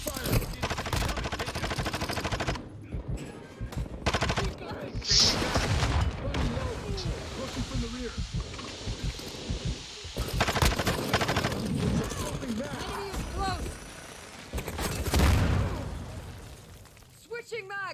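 Heavy automatic gunfire in a Call of Duty Hardpoint match, with dense, continuous bursts and fusillades layered over game effects throughout, and players talking over the shooting.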